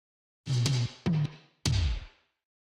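Several tom drum hits, some in quick pairs, each with a deep boomy body and a reverberant tail that rings out before the next strike.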